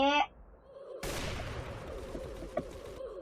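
A short voice gives way to a sudden blast of video game gunfire and explosion noise, a dense roaring burst with a sharp crack partway through.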